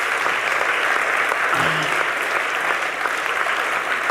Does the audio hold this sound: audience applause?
yes